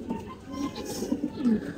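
Several old racing pigeons in a loft give short, soft, throaty coos close by, overlapping one another over a low background murmur.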